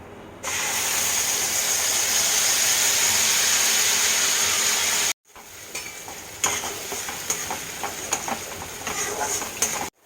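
Whole spices (cardamom, cinnamon, cloves, a dried red chilli and a bay leaf) sizzle in hot oil in a kadai with a loud, steady hiss. After a brief break, the ground nut-spice paste goes in and fries with a rougher, crackling sizzle and stirring scrapes.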